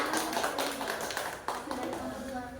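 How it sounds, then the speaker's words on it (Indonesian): A group of people gives a short, loud round of applause for a classroom team during a school presentation, with dense clapping over voices and some taps. "berikan tepukan yang gemuruh untuk kelompok 2"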